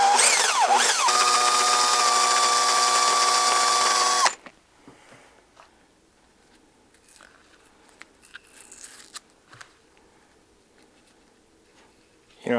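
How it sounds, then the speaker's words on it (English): Power saw cutting an aluminum part for a Ruger 10/22 rifle, lubricated with WD-40: loud, steady high-pitched whine for about four seconds, then it stops abruptly, leaving faint shuffling and small handling sounds and a brief burst at the very end. "when it comes to aluminum, WD-40 is your friend. It helps keep your cutting really nice and clean."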